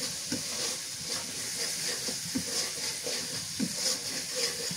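Spice paste sizzles and hisses steadily in a hot pan for a village-style fried beef brain dish, with soft scraping stir strokes pulsing through the frying at close range.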